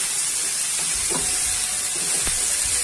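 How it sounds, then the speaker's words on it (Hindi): Rice and vegetables for veg matar pulao, with peas and coriander leaves, sizzle loudly in a pan under a constant hiss while a spoon scrapes and stirs through them in a few soft strokes. "इसे हम मिक्स करेंगे।"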